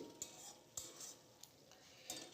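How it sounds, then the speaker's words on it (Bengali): Cumin and coriander powder being stirred with spices in a pan for a potato dum, a few soft spoon scrapes and light clinks over a faint low sizzle, quiet and close. "এবার আমি মশলার সাথে ভালো করে নেড়ে চেড়ে নিচ্ছি"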